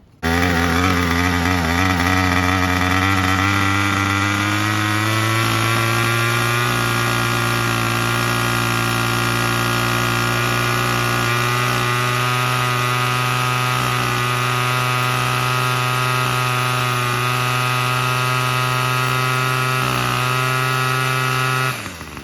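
A two-stroke weed eater engine runs loud and close during carburetor adjustment, its revs climbing slightly at first before settling into a steady high-pitched buzz for over twenty seconds, with no talking.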